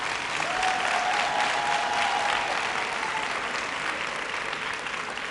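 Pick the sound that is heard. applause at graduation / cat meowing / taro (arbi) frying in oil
applause at graduation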